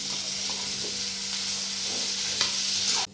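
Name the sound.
frying coarsely ground curry leaf paste for potato bhaji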